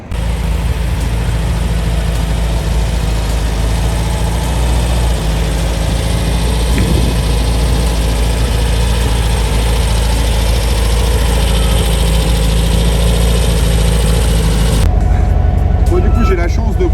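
A Porsche 356 Speedster replica engine of nearly 160 horsepower drones steadily and loudly from the cockpit while driving, with voices talking over the constant running note until it cuts lower near the end.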